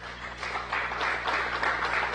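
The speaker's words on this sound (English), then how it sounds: "to a round of applause." A round of applause for the handover of the Orion spacecraft after the Artemis I Pacific splashdown, steady and moderately loud clapping from a group lasting about two seconds with no talk.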